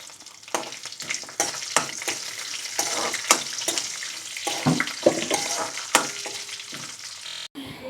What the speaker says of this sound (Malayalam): ഇതിനി ഗോൾഡൻ കളർ ആകുന്നത് വരെ ഇളക്കി കൊടുക്കാം